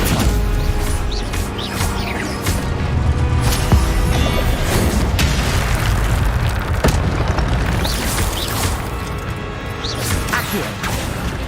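Stupefy spell blasts in a Hogwarts Legacy duel, amid a loud, unbroken barrage of booms, crashes and whooshes from close-range magical combat with no pauses.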